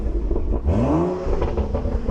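BMW M2 Competition with a swapped B58 engine revving close by, a brief rising and falling rev with a smooth mechanical whir over a deep engine rumble.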